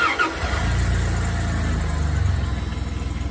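A stick-shift Dodge Dakota truck with a 3.9 engine cranks briefly and catches, settling into a steady, loud idle with a rhythmic chugging pulse close by, no talking over it.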